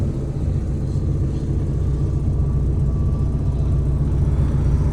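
A Honda Integra DC2 fitted with a K24 engine accelerates on a busy road, its engine a steady, loud low drone heard from inside the car with a faint rising whine and no talking.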